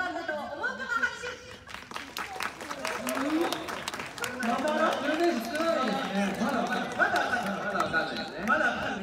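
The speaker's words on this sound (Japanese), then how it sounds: "じゃあ、チブ選手が、よかったと思う方、拍手。" Fans at a 2022 Tegevajaro Miyazaki fan appreciation event clap and cheer in a vote, a dense crowd of applause with chatter and laughter mixed in, steady and fairly loud throughout.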